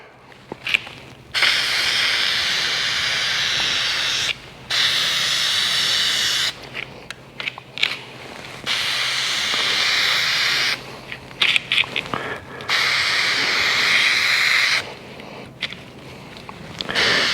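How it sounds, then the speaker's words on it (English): Long bursts of hissing spray start and stop repeatedly as oil is sprayed onto a Uni air filter for a Kawasaki KRX, each lasting a few seconds, loud and close, with short quiet gaps between them. "I'm going to start spraying on the inside and work my way all the way around"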